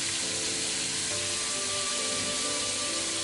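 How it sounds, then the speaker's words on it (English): Cooking sake poured into a hot pan for a simple Japanese home dish, giving a steady close sizzle and frying hiss that holds for a few seconds with faint stirring. "add cooking sake"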